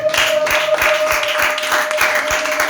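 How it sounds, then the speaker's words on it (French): A church congregation applauds for the Lord, a dense, continuous crowd applause with steady rhythmic beats under it, loud and close. "Est-ce que nous pouvons acclamer pour le Seigneur?"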